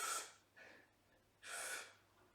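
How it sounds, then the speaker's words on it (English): Sharp breaths drawn in through the nose for a robot-style chest pop in a dance lesson, three quick hissing inhales close to the microphone, the first and last strongest, with no talking. "that's breathing in only"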